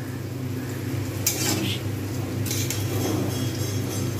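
Papad frying in oil in a pan, with a steady low sizzle under clinks and scrapes of utensils against the pan.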